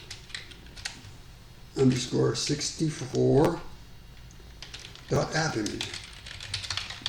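Keyboard typing of a chmod command on a computer to make a Linux AppImage file executable, with quick keystroke clicks heard between and under stretches of a man's speech.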